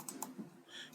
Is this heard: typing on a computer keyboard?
yes